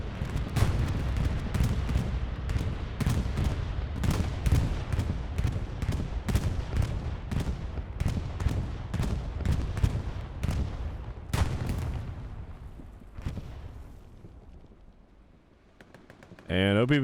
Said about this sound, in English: And actually counter bombing run coming in from OPBHB.